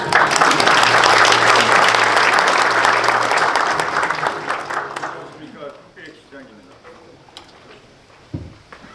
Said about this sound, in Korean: 정장선 시장님을 뜨거운 박수로 모시겠습니다.